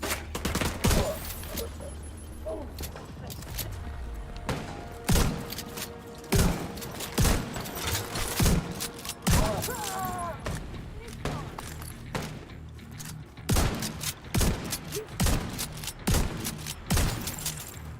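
Shotgun blasts in the video game The Division 2 boom out repeatedly in irregular bursts, loud and close, alongside other gunfire, game sound effects and intermittent talking.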